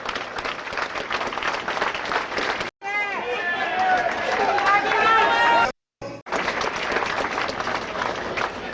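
A rally crowd applauding and cheering, loud sustained clapping and voices that briefly cut out twice, with a rising roar of cheers in the middle stretch.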